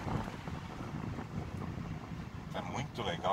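A 2004 Chevrolet Meriva CD engine idles along at low revs, around 1,200 to 1,500 rpm in third and fourth gear, as a steady, quiet, low cabin hum mixed with road and wind noise, with faint clicks near the end.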